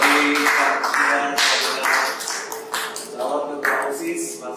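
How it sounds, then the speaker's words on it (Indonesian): Applause from a school audience for student council candidates at a debate, a steady patter of many hands clapping across the whole stretch, fairly loud and busy with overlapping claps. "Tepuk tangan bagi calon"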